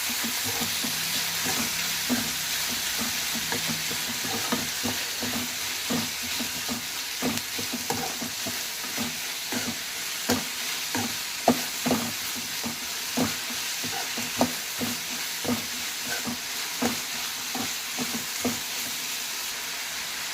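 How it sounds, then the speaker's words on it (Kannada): Tomatoes frying with onions in a pan for vangi bath: a steady close sizzle with regular scraping and stirring strokes from a spatula repeating throughout, moderately loud, with no voices. "ಈಗ ಈರುಳ್ಳಿ ಫ್ರೈ ಆಗಿದೆ ಟೊಮೊಟೊ ಹಾಕಿ ಫ್ರೈ ಮಾಡಿ"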